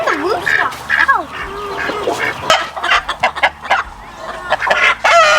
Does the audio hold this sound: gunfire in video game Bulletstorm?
no